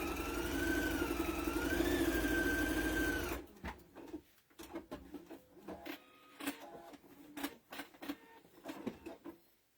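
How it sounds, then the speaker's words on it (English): A sewing machine stitches a quarter-inch seam with a steady, droning hum that rises slightly in pitch midway and then stops suddenly, followed by faint clicks and handling noises of fabric. "So I'm going to sew a 1/4 inch all the way across."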